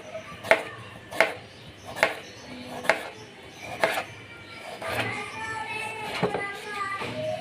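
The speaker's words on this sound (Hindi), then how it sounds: "ऐसे आपने आलू की कटिंग करनी है।" A knife chops potatoes for aloo bhujia on a board, close and crisp, in a steady rhythm of single cuts about a second apart that grow quicker and softer toward the end.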